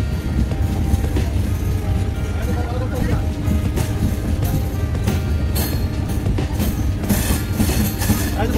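The Ekota Express pulls out of Bangabandhu Bridge East station with a continuous low rumble and scattered metallic clacks from the wheels and cars.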